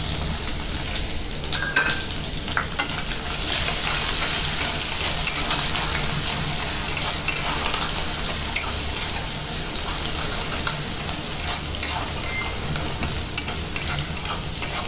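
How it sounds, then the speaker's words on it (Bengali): Chopped onion sizzles steadily in oil while a spatula stirs and scrapes the pan at close range, the frying hiss constant and loud throughout with no talking. "পেঁয়াজটা এভাবে নেড়ে লাল করে ভেজে নেব।"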